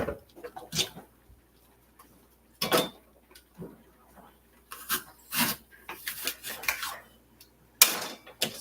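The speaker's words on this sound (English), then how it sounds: "And then today I'm going to core the apples" Apples being cored by hand in a home kitchen: scattered scraping, rasping and cutting strokes with clinks of utensil against fruit and dish, in irregular short bursts separated by quiet gaps.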